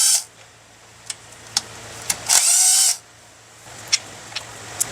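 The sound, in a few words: ratchet removing engine valve cover bolts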